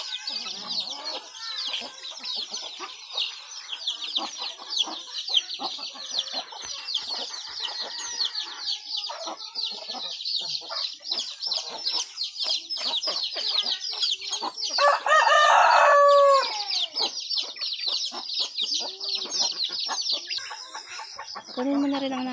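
Pet chickens in a new coop cluck and chirp loudly and continuously, a busy close-up chorus of overlapping calls with a louder, drawn-out call near the middle.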